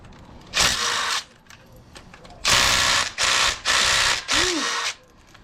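An impact gun working on the harmonic balancer bolt of a Ford 6.2L V8 in a garage, fired in one short burst and then four loud rattling bursts close up, separated by brief pauses.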